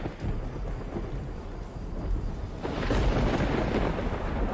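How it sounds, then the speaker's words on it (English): Thunder rumbling in the video game Minecraft during a thunderstorm, a loud continuous roar with rain that swells stronger toward the end, with no talking. "We're not going to use it because that thunder is so loud."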